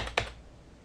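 A single short click of a tap on an Android Honeycomb on-screen keyboard, crisp and close, followed by quiet room tone.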